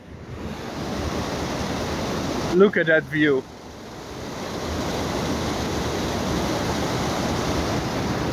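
Loud, steady roar of fast-flowing white water rushing nearby, a broad continuous wash that fills the whole stretch, with a brief spoken remark breaking in partway through.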